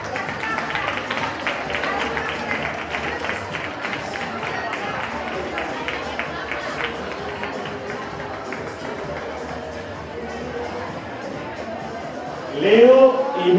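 Applause at a children's carnival costume contest, a moderate crowd clapping steadily with a murmur of voices. An announcer's voice over a loudspeaker rises briefly near the end.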